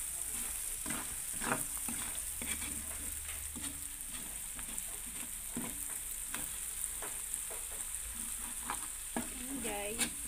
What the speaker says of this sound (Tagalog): Nilagay agad ang sili.